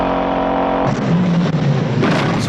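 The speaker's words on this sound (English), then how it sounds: "it's all the street sounds, the muscle car engine noises, the tire squealing" A muscle car engine roars loud and close during a street chase, holding a steady growl before surging, with tire squeal and no music underneath.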